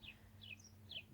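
Sparrows chirp outdoors, three short, faint high chirps spaced roughly evenly over a low steady background hum.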